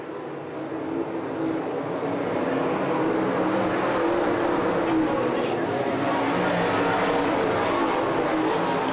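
Super Late Model race cars circle a dirt track in a feature race, engines a dense continuous roar, with a commentator talking over it throughout.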